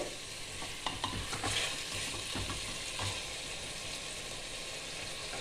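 Mutton for doi mutton frying on medium heat in a pan, a soft steady sizzle broken by stirring scrapes and clinks, fairly quiet and without speech.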